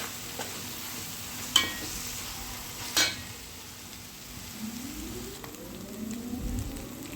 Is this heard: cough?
no